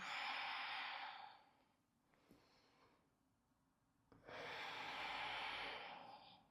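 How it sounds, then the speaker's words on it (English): A person breathes during an exercise routine: a long, loud breath lasts about 1.5 seconds, then a quieter gap follows, then another long, strong breath of about 2 seconds, with no talking. "Breathing in and exhale."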